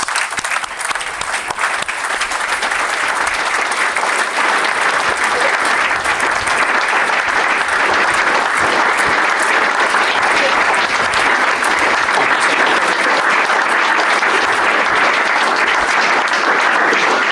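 Sustained, loud audience applause fills the room at the official opening of the LOROS Professional Development Centre, congratulating Helen Williams as she comes up to receive flowers, steady dense clapping throughout with little talk.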